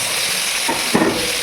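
Tomato dropped into a pan of onions and spices frying to brown, the steady sizzle flaring briefly with a hiss and stir as it goes in.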